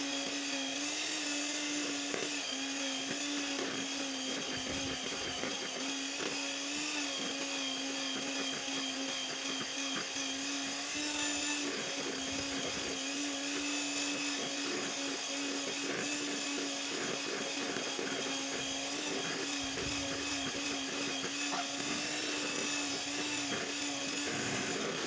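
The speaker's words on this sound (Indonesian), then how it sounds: "kita aduk terus, mixer merata sampai dia mengembang" An electric mixer whips homemade ice cream batter in a home kitchen, giving a steady, loud motor whine that runs unbroken throughout with no voices.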